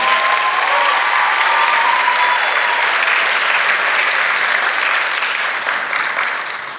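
An audience at a community tribute event gives a sustained round of applause for a coach, dense steady clapping that holds strong and fades slightly near the end.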